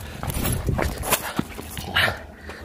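A dog whimpers and lets out a few short yips and barks close by, with faint rustling in between.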